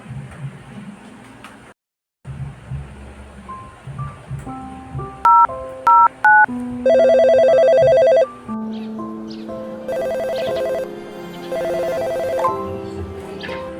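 A phone call being placed, with a series of loud, close keypad dialing tones followed by long electronic ringing tones. There is soft background noise between them and no talk.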